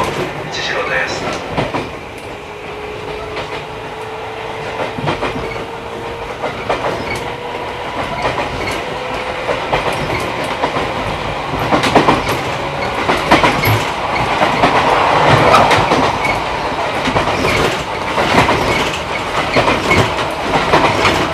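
A 211 series electric train runs on the Agatsuma Line between Naganohara-Kusatsuguchi and Onogami, heard from inside the car as a steady rumble with rhythmic clickety-clack of the wheels on rail joints, and faint voice announcements underneath.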